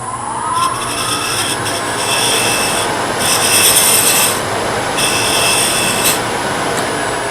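A parting tool cuts into a wood-turned Christmas ornament spinning on a lathe, making a steady close raspy scraping that continues throughout with slight pulsing swells.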